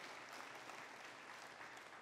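Congregation at a church Sunday service applauds in praise of God, a steady, dense wash of many hands clapping throughout, fairly close and even in level.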